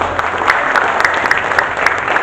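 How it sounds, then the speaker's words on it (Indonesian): Loud, close applause from attendees at a hotel coordination meeting of campaign volunteers, honoring a regional director, with sharp individual claps standing out over a dense crowd wash. "Tepuk tangan untuk beliau."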